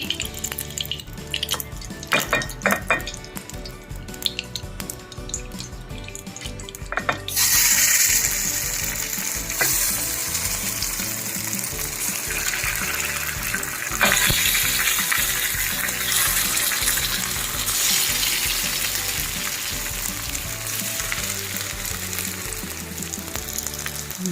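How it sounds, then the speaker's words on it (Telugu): Beetroot paniyaram sizzling in ghee in a paniyaram pan, a steady loud frying crackle and hiss that swells after a quieter start and carries on without pause, with no voices over it. "స్టవ్ వెలిగించి కొత్త పొంగనాలు పాన్ పెట్టుకుని ఇందులో నెయ్యి వేసుకుని కాల్చుకుంటే బాగుంటుంది"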